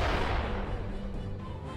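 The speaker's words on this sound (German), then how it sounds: "Und in die Kanone rein!" A cannon fires in Rock of Ages 2, a loud, dense boom with a rumbling low-end tail that fills the whole short moment, with no voices over it.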